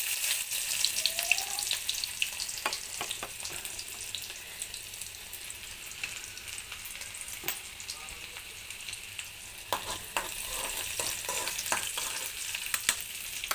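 Two small shallots crackle and sizzle in hot oil in a pan for tempering a coconut curry, a steady close hiss broken by sharp spits and pops.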